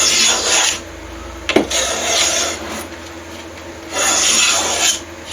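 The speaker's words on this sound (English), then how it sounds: "So I'm just planing it down close to the fretboard." Hand plane shaving down wooden binding on a custom guitar near the fretboard, with raspy, close strokes that come in a few uneven passes, one sharp knock partway through.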